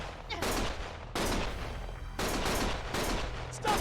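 Gunfire in the video game Lost Judgment, with dense bursts of automatic weapon fire arriving in several loud rolling volleys that cut off abruptly, over a low rumbling backdrop and with no talking.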